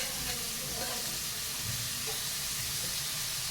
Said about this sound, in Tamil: தண்ணி பார்த்திங்கன்னா பொடிசாக நறுக்கி வச்சுருக்க தக்காளி போட்டுக்கிறோம்